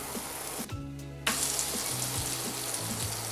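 A knob of butter sizzles in a hot frying pan while cooking veal kidneys with chanterelles, a steady close hiss that swells suddenly and then holds without talk.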